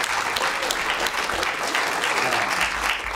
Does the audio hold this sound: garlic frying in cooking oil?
no